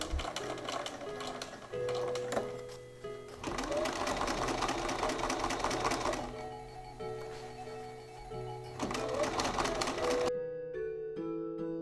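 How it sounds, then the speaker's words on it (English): A sewing machine runs straight stitching in pink thread, sewing trim onto a bag made from an IKEA pillow, with a steady mechanical whir broken by brief pauses before it stops, close and fairly loud. "Using the pink thread, I did two lines of stitching, just straight stitching"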